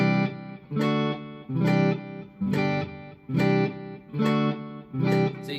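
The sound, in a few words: guitar chords played letting go between changes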